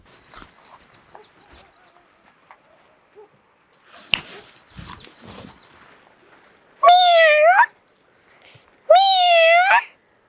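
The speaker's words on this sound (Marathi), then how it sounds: "ते मांजरीचा आवाज कुठून येतोय बघायला लागन" Two loud, drawn-out cat meows sound close by, one after the other, after a stretch of faint rustling and scattered knocks.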